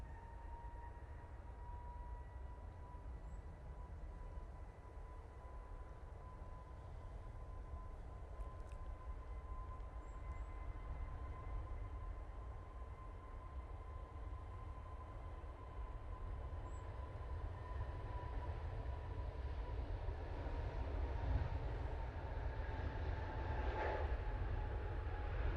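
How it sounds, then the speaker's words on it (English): An EasyJet Airbus A320neo takes off from Manchester Airport, its engines a steady, broad roar that builds slightly over the run, with a faint sustained tone riding above the rumble and no talk. "But first of all, it's this 320neo for EasyJet going off to Athens."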